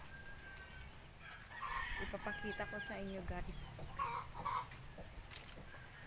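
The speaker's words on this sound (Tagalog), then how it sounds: "may mga manok din dito" Chickens cluck and call in short bursts close by, near rice fields behind a boarding house, while a person talks over them outdoors.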